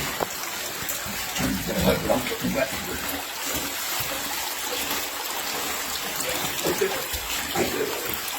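Water flows and trickles steadily inside a cave near its entrance, a continuous watery rush with splashy bursts, close and constant, while people talk over it.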